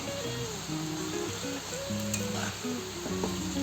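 Fish pieces frying in a pan with cooked beans, tomato and spices, a steady soft sizzle under a music bed with a few faint stirring clinks, no voice.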